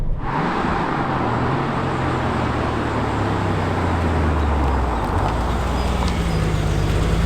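A Porsche 911 993 C4S with viscous all-wheel drive drives past loudly and steadily, its engine rumbling with dense road noise throughout and no voices.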